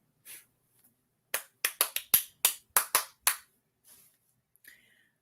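Hands clap in a quick rhythmic pattern, about eight sharp close claps in a row, crisp and dry in a quiet room, with faint sounds before and after.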